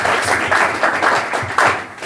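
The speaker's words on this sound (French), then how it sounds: "je veux aussi qu'on applaudisse pour tous nos membres ici" An audience at a Congo Unis first-anniversary gathering applauds its members, with brisk, fairly loud rhythmic clapping in bursts that fills the short moment.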